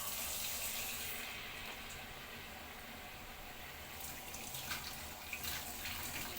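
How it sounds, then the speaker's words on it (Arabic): Pigeons being washed one by one under a running kitchen tap, a steady close hiss of flowing water with small splashes and shifting tone as the birds move under the stream. "هنا بقى اخد الحمام اغسله واحده واحده."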